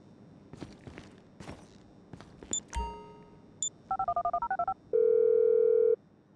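Telephone keypad tones in GTA 5: a short burst of rapid, evenly spaced dialing beeps, then a long steady ringing tone, following a few footsteps and game clicks.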